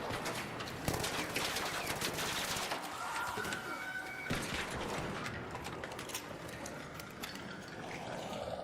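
Rapid automatic gunfire in the video game Arc Raiders, a dense, continuous burst of shots with mechanical clatter, loud and sustained throughout.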